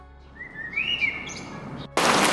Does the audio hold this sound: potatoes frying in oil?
no